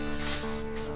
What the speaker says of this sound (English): you can spray with some disinfecting spray